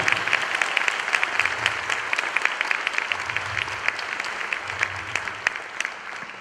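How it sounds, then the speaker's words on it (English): An audience at a spiritual gathering in New York breaks into sustained applause, dense crisp clapping from many hands filling the hall at an even level throughout. "Give him a big applause, everyone."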